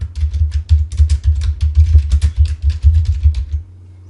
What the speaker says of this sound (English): So we're just going to type in the name.